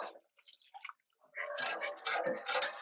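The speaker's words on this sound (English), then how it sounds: "The next thing is we add milk." Milk poured into a pan while making nacho cheese sauce gives faint, intermittent liquid splashes and trickles, starting sparse and growing into a fuller pour.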